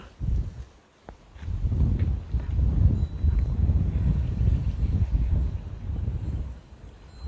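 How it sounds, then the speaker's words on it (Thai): Strong wind buffets a hilltop by a cave monastery above the Khwae Yai River, a steady low roar with gusty swells that keeps going throughout, and no talk is heard. "หวิวที่นี่ลมแรงมาก"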